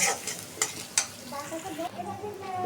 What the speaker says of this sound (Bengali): রান্নাটা বসাই দিছি, পেঁয়াজ দিয়ে দিলাম চুলায়